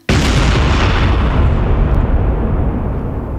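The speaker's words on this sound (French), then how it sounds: "une explosion souffle la moitié de leur maison." A house-destroying explosion goes off with a sudden loud blast, followed by a long, dense rumbling roar that holds strong and slowly fades over a few seconds, with no voices.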